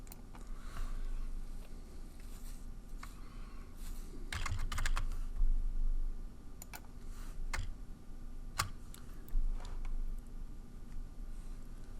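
Keys clack on a computer keyboard as a purchase order number is entered into accounting software, with sparse, quiet keystrokes and a few short bursts of quicker typing over a low room hum.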